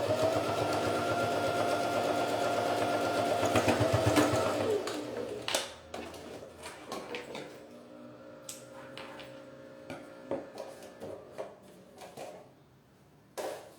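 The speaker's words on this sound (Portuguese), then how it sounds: "costurei aqui, fechei meu forrinho" A sewing machine runs in a steady whirring stitch for about four seconds while closing the lining of a fabric phone case. Scattered clicks and small handling knocks follow once it stops.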